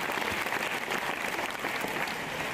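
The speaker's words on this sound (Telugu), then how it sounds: "Clap for this boy." A school audience applauds a boy, steady broadband clapping from many hands filling the room for the whole stretch, with no voices over it.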